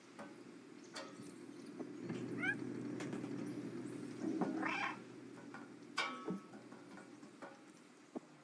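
A cat meows in a video game, with a few short, faint mews over a steady low background hum and occasional light clicks.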